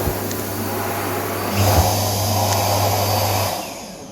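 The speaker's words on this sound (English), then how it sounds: "I think this is the air dryer." A hand air dryer in a public toilet at the Dubai Expo 2020 site runs with a steady, close whirring blow that grows louder partway through and then cuts off near the end.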